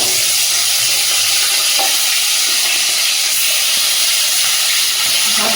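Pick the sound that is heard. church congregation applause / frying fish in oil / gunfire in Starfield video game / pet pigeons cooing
frying fish in oil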